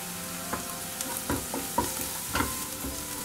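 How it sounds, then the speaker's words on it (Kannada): Garlic-ginger paste frying in a pan with onion and curry leaves for a village-style mutton curry, a steady close sizzle broken by several sharp scraping stirs spaced about half a second apart. "ಈಗ ಬೆಳ್ಳುಳ್ಳಿ ಶುಂಠಿ ಪೇಸ್ಟು ಫ್ರೈ ಆಗಿದೆ"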